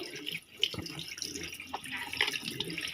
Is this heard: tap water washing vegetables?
yes